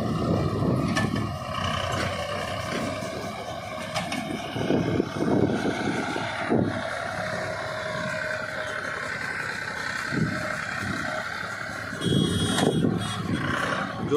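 A John Deere tractor engine pulling a loaded single-tyre trolley: a steady mechanical drone with clanking and rattling throughout, heard from nearby.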